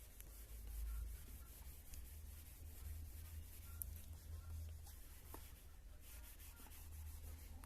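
An eraser rubbing writing off a board during a maths lesson, a soft continuous scrubbing swish in a quiet room with a few faint knocks, no speech.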